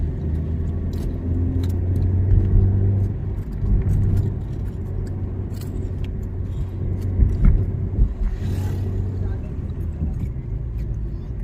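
Maruti Suzuki Baleno climbing the Munnar ghat road in third gear, a steady low engine rumble and road noise from inside the car, with people talking over it throughout.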